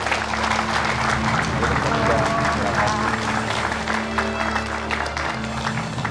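A studio audience at an Indonesian TV show claps steadily to welcome a guest, producing a dense, even wash of applause that lasts the whole stretch, with possible voices underneath.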